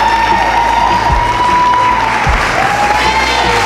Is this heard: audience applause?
yes